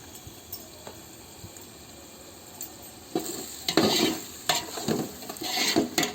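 Spices with a pinch of turmeric and stone flower sizzle and fry in a pan for Arabic-style chicken mandi biryani, quiet at first, then louder bursts of sizzling and stirring scrapes in the second half, with no talk.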